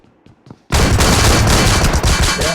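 Sudden dense burst of rapid gunfire in a video game, loud and close, hammering continuously for about two seconds after a quiet start with a few faint knocks.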